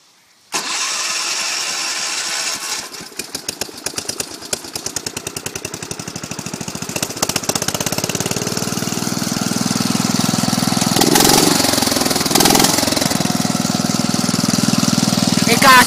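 An engine fitted with a muffler cranks and catches, chugging unevenly before settling into a loud, steady running roar close by, with voices talking over it.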